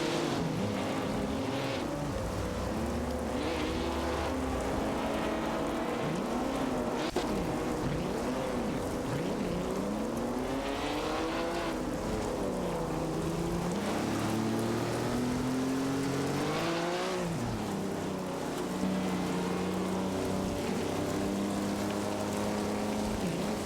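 AI-driven race cars in a racing video game, engines droning and whining continuously with rising and falling pitch sweeps as cars pass and shift, a steady loud bed of overlapping motor noise with no talk.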